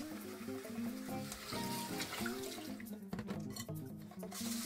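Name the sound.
rinsing brown rice in clean water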